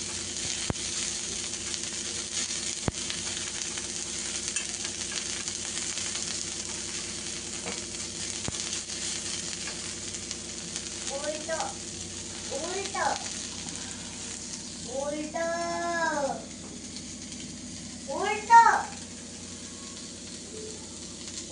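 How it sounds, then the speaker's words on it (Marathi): Onions sizzling and frying steadily in a pan for a home-style spiced brinjal and potato curry, a continuous hiss with a few short stirring clinks, and distant faint voices in the background. "आता आपण कांदा भाजून घेऊ."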